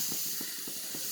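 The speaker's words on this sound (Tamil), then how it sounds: "நல்லெண்ணெய் ஊற்றிக்கலாம்" Sesame oil hisses steadily in a hot pan while cooking a spicy Andhra-style country chicken curry, a close, continuous sizzle with soft pulsing crackles.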